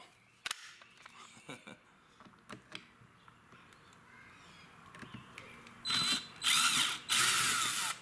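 A cordless battery drill drives screws on an Infiniti steering wheel. Several short clicks and taps come first, then three loud, close bursts of drill whine near the end.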